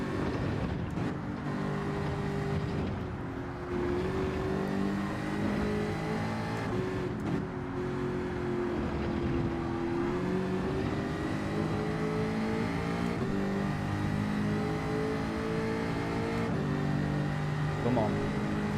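A race car in Gran Turismo 7 drones steadily through a lap, its engine note rising and falling with throttle and gear changes, loud and continuous throughout.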